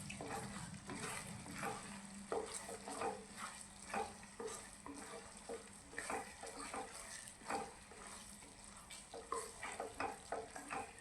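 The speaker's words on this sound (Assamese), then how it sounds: "মছলাখিনি দিয়াৰ পিছত এবাৰ ভালদৰে মিক্স কৰি ল'ম।" A spoon stirring spice powder into sweet jujube pickle in a pan, a soft steady scraping and sizzling with irregular clinks, faint and close.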